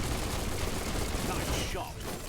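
Gunfire in the Biomutant video game: a dense, loud clatter of shots that fades out near the end, set against a busy game soundscape.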